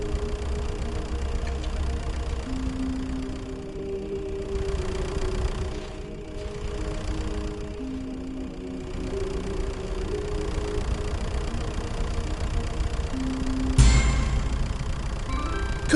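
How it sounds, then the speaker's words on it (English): A tractor engine in The Stanley Parable idles steadily with a low, even mid-pitched rumble throughout, joined near the end by a brief bright ding-like chime, with no voices. "This is a tractor and not a bucket."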